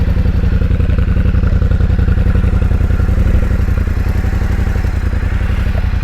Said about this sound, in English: Starting up the bike, we will.